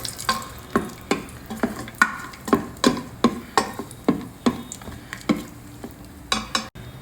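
Cashew nuts sauté in a Solara Magic Pot, with a spoon scraping the pan in quick, regular strokes over a soft sizzle, close and alone.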